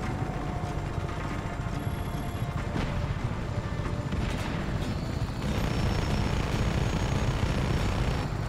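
Helicopter in the Just Cause 3 video game, a steady rotor and engine drone running loud and continuous throughout, with a faint rattle of gunfire mixed into the dense game noise.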